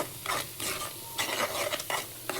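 A spoon stirs prepared masala into a simmering tomato and rajma curry in a pot, making repeated scraping, sloshing strokes over a faint sizzle. No voices.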